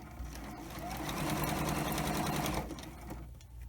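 A sewing machine chain-stitching fabric face masks runs in a steady, continuous whir that swells and then tapers off near the end.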